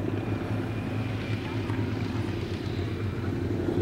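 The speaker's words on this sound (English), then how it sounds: "De Havilland Tiger Moth." A de Havilland Tiger Moth biplane flies past at an airshow, its propeller engine giving a steady, droning hum that holds at an even loudness throughout, with no voices over it.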